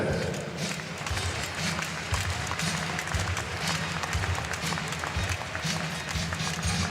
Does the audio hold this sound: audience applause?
yes